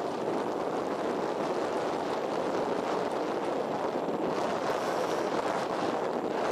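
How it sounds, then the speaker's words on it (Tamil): Strong wind at a seaside temple roars steadily into the microphone, a loud broadband buffeting with a faint wash of sea water underneath. "காத்து செம்மையான காத்து."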